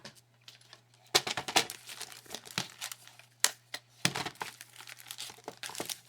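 A plastic storage bag is being trimmed, giving close, crisp crinkling and snipping bursts in irregular clusters over a faint steady hum, with no talking.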